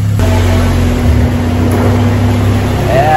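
A Honda Civic EG with a swapped K20 engine, running with a misfire on a dyno, holds a loud, steady, droning idle with a constant low hum throughout.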